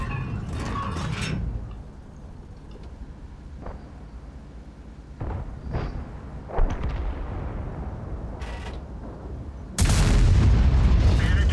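Tank cannon shots in World of Tanks, a Grille 15 facing a Jagdpanzer E 100, boom out in a few heavy blasts over a low rumbling battlefield bed, with the loudest, sustained blast arriving near the end.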